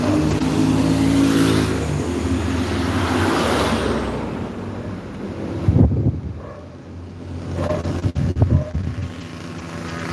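An ALS bus engine, idle for months and being moved by its crew to a coachbuilder, rumbles and revs with a steady low drone, while wind buffets the microphone and the engine surges in a few loud bursts.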